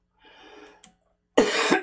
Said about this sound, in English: you don't need to listen to me cough that much.